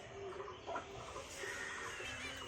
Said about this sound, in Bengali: এদিকে কোয়েল মুরগিগুলা আছে, কোয়েল মুরগিগুলা